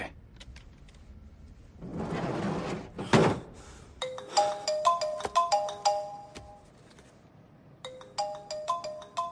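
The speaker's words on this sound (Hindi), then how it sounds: "उसी का फोन है" A phone ringtone plays a repeating electronic melody after some rustling and a thud, ringing in two bursts at moderate volume.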